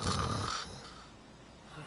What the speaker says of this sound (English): Ryuji is snoring.